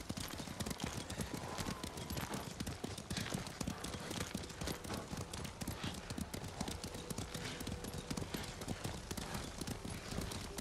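Horse hooves clip-clop steadily and close by in Ghost of Tsushima, a continuous trotting rhythm over ambient game sound with an occasional faint whinny.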